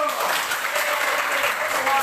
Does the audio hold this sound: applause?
yes